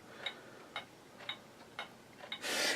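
Steady ticks from a train clock on an HO scale model railroad layout, five or six evenly spaced clicks about half a second apart, faint and close, ending in a short burst of hiss.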